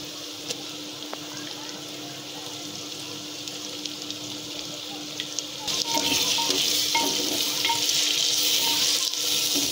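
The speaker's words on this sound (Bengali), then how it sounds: "এরকম করে নাড়িয়ে নেব আমরা সুন্দর করে, যাতে রসুনের গন্ধটা চলে যায়" Ginger-garlic paste frying with browned onions in a pan gives a steady, close sizzle with scraping stir strokes, and the sizzle grows louder and brighter partway through.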